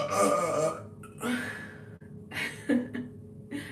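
A young woman's big, loud burps come in several separate bursts across a few seconds, each voiced and rough with short pauses between.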